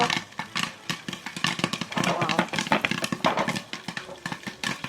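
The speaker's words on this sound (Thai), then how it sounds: "ชอบฟังเวลามันป๊อปปุ๊บปุ๊บปุ๊บปุ๊บ" Corn for caramel popcorn popping rapidly in a covered pot, a dense, irregular burst of sharp pops that thins out toward the end.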